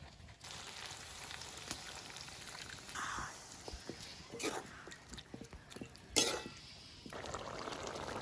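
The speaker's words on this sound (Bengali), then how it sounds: "তো গাইজ এখন একটু ঝোল দিয়ে দেবো" Broth poured into a pan of simmering rooster feet curry, giving a steady close sizzle with a brief splashing pour and a sharper liquid burst near the end.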